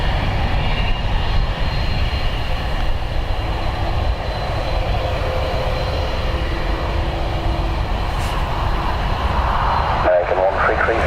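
A FedEx 767 cargo jet taxiing at Dublin Airport, a loud continuous engine roar and whine that holds steady for the whole stretch, close by, with a brief disturbance near the end.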